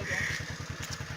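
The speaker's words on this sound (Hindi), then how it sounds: "बाइक भी बंद नहीं की" A motorcycle engine idles nearby with a steady, rapid low chug that pulses evenly throughout, running outdoors with no other sound covering it.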